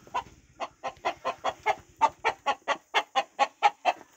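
Chickens clucking in a steady, even series of about fifteen loud, close, sharp clucks, with almost nothing else around them.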